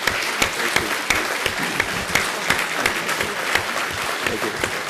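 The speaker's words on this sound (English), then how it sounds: "I think they deserve a round of applause." An audience at an evening talk on plant-based medicine applauds, a steady wash of many hands clapping with sharper individual claps sprinkled through, no voices over it.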